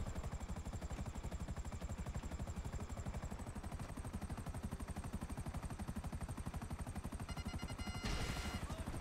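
Maverick helicopter flying in GTA 5, a steady rapid rotor chop that drones on loud and continuous throughout, with a slight swell near the end.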